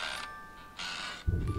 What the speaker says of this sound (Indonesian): Suara ada pintu kebuka.